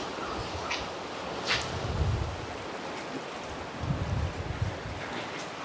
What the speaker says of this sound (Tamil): அவ்வளோ ஒரு மாதிரி அவ்வளோ ஸ்பீடாக போயிட்டுருக்கு தண்ணி